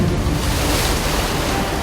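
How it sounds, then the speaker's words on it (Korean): Strong sea waves surge against coastal rocks where workers gather mussels, a steady loud roar of surf and wind filling every moment with no voices. "시간이 갈수록 점점 거세지는 파도."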